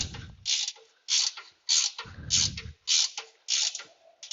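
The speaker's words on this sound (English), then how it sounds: "I like these big, long ratcheting wrenches and pull wrenches for front end work" Long GearWrench ratcheting wrench cranking on the front end of a 2012 Dodge Charger, a close, loud series of about seven rhythmic ratchet bursts with brief pauses, no talking.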